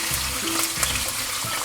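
Squid being pan-fried in a generous amount of oil, a steady wash of sizzle with a few brief louder pops, close by and heard on its own without talk.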